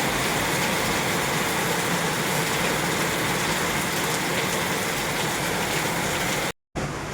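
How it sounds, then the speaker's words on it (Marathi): Heavy monsoon rain pours down in a dense, loud, steady hiss of drops on surfaces, unbroken until a brief cut near the end. "तुम्हाला मी पाऊस किती मोठा पडतो हे दाखवते"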